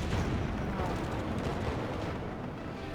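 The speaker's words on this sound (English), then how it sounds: "you can just fire the back turret" The North Carolina battleship's turret guns fire in World of Warships, a heavy booming blast rolling into a long, dense rumble that slowly fades.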